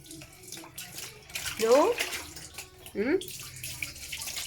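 Water is poured from a basin over a dog being bathed outdoors on a hot day. A few sloshing splashes sound close by, and a voice speaks briefly between the pours.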